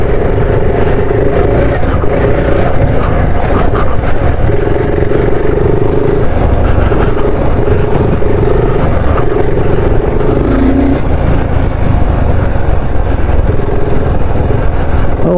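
A BSA Scrambler 650 motorcycle rides off-road through a puddle, its engine droning loudly and steadily with rough clattering and rumble from the terrain throughout, no talk.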